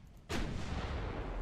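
Naval gunfire in the warship game Ultimate Admiral: Dreadnoughts: one sudden, loud cannon blast that swells into a sustained, rumbling roar over a low background hum.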